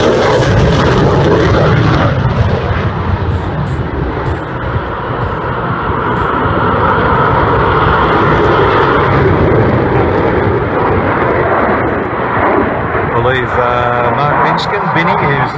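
A jet aircraft at the Wings Over Illawarra air show powers up and goes around, its engine roaring loud and steady overhead, with a voice talking under the noise.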